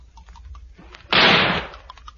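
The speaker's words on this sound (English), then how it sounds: "I'm going to shoot the top of it." A single loud gunshot fired at the top of a triffid plant in a garden, a sharp broadband blast that rings for about half a second before fading back to quiet background.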